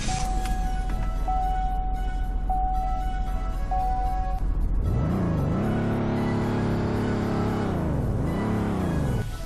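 Car engine in the TruckPlanet video game idling with a steady hum and occasional chime, then revving up and down in two rising and falling sweeps, close and alone.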